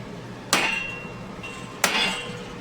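Two sharp metallic strikes of a 5-pound hammer on a steel chisel, about a second and a half apart, each ringing briefly before fading; close and loud with no talking, during forge press tool fabrication.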